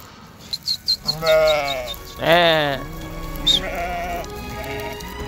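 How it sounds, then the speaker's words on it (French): Sheep bleat loudly nearby in long, wavering calls, and fainter bleats answer from the flock in a mountain setting, with light patter and some background voices. "il arrive à guider ses petits moutons"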